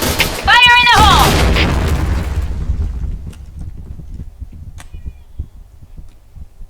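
A grenade explodes in the Point Blank video game, a loud booming blast near the start with a shouted voice over it, then a decaying rumble with scattered small clicks and thuds afterward.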